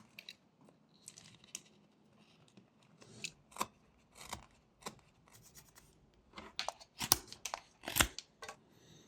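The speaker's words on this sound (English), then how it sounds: "The feet can be separated from each other with these V-cuts." A whittling knife carves V-cuts into a small wooden gnome figure, producing a series of short, crisp scraping and snicking cuts that grow louder and denser toward the end, close and quiet with no speech.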